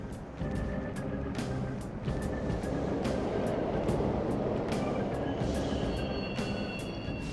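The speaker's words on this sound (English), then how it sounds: "The trains are totally running! Of course they are. We're in the subway, you know." Subway trains running in Mementos, the underground world of the game Persona 5 Royal, heard as a steady low rumble of rolling rail cars with faint metallic squeals and tones, continuous and fairly close, with no talking.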